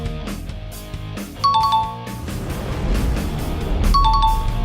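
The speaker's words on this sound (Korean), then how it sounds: "이거 일단 딩동댕 해주자." A bright ding-dong-dang correct-answer chime rings out twice, each a quick rising run of clear bell tones sounding over a steady musical bed.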